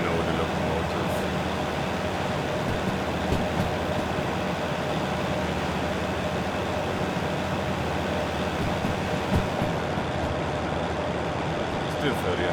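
DH4 diesel locomotive in the game Derail Valley, a steady low rumbling drone of engine and rolling stock that holds constant throughout, with faint knocks and clanks near the end.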